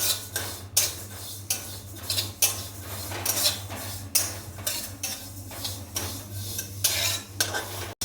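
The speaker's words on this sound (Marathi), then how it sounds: "सफेद तीळ स्लो गॅसवरतीच भाजायचे" White sesame seeds are stirred as they roast in a pan over a low gas flame. A spoon scrapes the pan in a rhythmic series of sharp strokes over a faint sizzle and a steady low hum.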